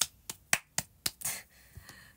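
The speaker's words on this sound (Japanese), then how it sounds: "拍手下手くそか。" Five sharp, evenly spaced hand claps ring out close by, followed by a softer scuffing sound and a couple of fainter claps.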